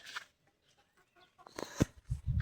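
A broody turkey hen makes low clucking and grumbling calls close by, a few short scattered sounds followed by louder, denser bursts toward the end, with no talk over them.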